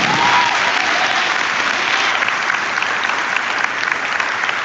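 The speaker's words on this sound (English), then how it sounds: "I'd like to ask you to give a serious round of applause to your colleagues" An opening ceremony audience gives colleagues a loud, sustained round of applause, a dense and even wash of many clapping hands that fades slightly toward the end.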